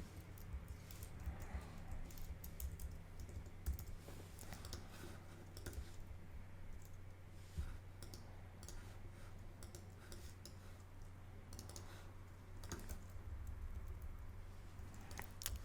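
Computer keyboard typing during work in a design program, scattered soft key clicks over a steady low hum, faint and close, with no voices.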